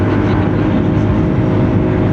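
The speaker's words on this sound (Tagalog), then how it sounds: "Parang hirap yung makina. Parang masyadong madiin ang piga." A Honda Giorno scooter engine strains uphill with a loud, constant droning hum and rumble that stays steady throughout.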